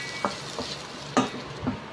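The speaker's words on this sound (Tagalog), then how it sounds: "Haluin lang natin, mga tropa." Garlic being stirred in a hot pan while it fries, with a soft steady sizzle broken by four distinct scraping strokes of the spoon, close up and wordless.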